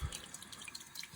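Tap water runs into a sink while a shaving brush is rinsed under the hot stream, a steady close splashing hiss that lasts the whole brief moment.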